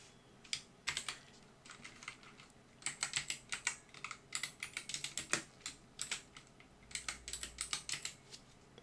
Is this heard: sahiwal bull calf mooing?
no